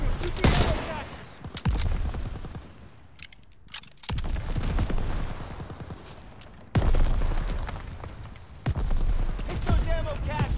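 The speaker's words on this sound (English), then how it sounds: "Daniel, shoot the ammo caches around the pathfinder gates." Shots and explosions as ammo caches are blown up in a Call of Duty World War game, sharp booming bursts in several loud waves, with a voice talking between and over them.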